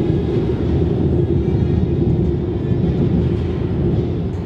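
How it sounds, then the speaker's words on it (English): Train noise carried down into a building through a tube, heard as a steady, loud low rumble and roar with no breaks, filling the space evenly. "The tube presses down into the building below, intentionally carrying the sounds of the train into the rest of the building."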